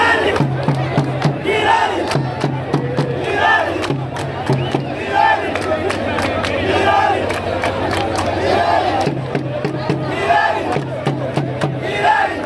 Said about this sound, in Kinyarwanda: abafana ba Rayon Sports dore bari gutera amashyi cyane kuri stade Stadium ebana i Nyamirambo